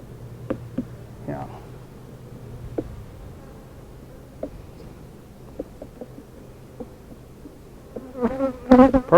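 Honey bees buzz steadily around hive frames during a hive check, a low continuous drone with scattered louder passes near the end and brief voices talking over it.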